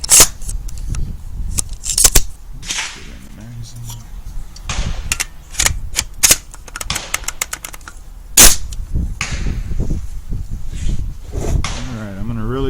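Sharp rifle reports from a .338 Federal (338-08) rifle fitted with a Pulsar Digex scope, several loud separated cracks spaced irregularly, with someone speaking between the shots.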